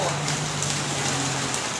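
Steady rain falls outdoors in an even, dense hiss of drops on surfaces, continuous and fairly close throughout the short stretch, with no voices.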